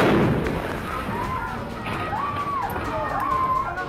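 Fireworks go off at a nighttime election rally in Peshawar, Pakistan: booming thumps and whistling streaks rise over a rumbling crowd, with a voice speaking throughout.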